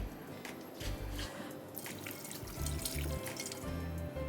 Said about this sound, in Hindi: हाथ धो लूँ मैं पहले